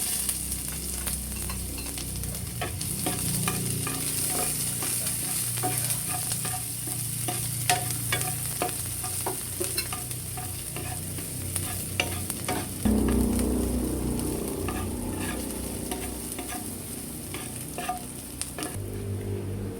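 Garlic and onion sizzle steadily in a pan of oil left from frying eggplant, with a constant hiss and scattered clicks of a spatula stirring, the frying growing louder partway through.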